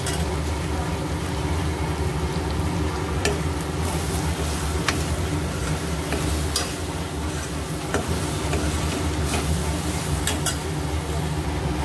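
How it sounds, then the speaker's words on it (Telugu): Freshly ground ginger garlic paste frying in a pan for a brinjal, potato and tomato curry, a steady dense sizzle throughout with occasional sharp ticks of a spoon scraping the pan. "పచ్చి వాసన పోయే వరకు ఫ్రై చేసుకోవాలి"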